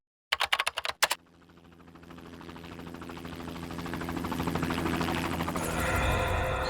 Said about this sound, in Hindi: मुझे भी यही लगता है, ये हेलीकॉप्टर की ही आवाज है।